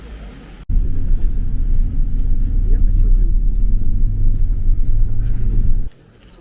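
A shuttle bus carrying passengers toward Sumela Monastery in rainy mild weather gives a loud, close, steady low engine rumble that starts abruptly and holds for several seconds before cutting off.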